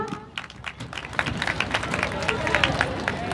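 Loud applause from an audience at a Swami Vivekananda Jayanti stage program, dense steady clapping that builds slightly over a few seconds with crowd murmur underneath.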